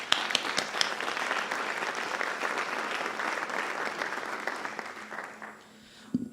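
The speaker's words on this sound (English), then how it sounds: "Please, everyone, give yourselves a round of applause." An audience at an end-of-year teacher appreciation celebration gives sustained applause, steady and fairly dense, before it fades out near the end.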